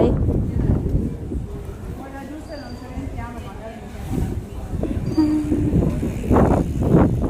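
Rumbling rail noise of a passing train with rhythmic clatter, while people talk over it nearby.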